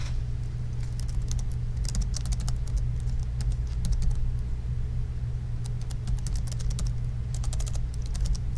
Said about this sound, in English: I really don't like typing that.